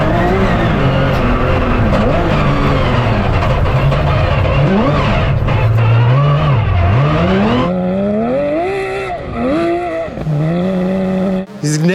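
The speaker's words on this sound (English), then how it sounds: "GT3 Porsche is rally driving right now" A Porsche GT3 Cup race car runs a dirt rally course, its engine loud and close throughout, revving and dropping in sweeping pitch as it accelerates, slides and shifts, with a brief dip near the end.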